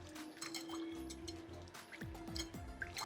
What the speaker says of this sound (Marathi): चला आता आपण हे पाण्याने स्वच्छ धुवून घेऊया.